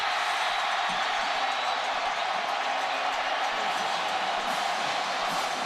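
Kansas Jayhawk football fans in a packed stadium cheer after a touchdown against Missouri, a steady, dense roar of crowd noise holding evenly throughout with no distinct peaks.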